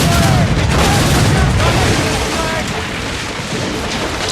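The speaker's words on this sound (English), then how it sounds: "Here, you can use the puckle gun, an early form of machine gun to destroy weak points in quick succession while free aiming." In the Assassin's Creed Rogue video game, a ship-mounted puckle gun, an early machine gun, fires at an enemy ship, a dense rumbling barrage of booms and rapid shots under a speaking voice.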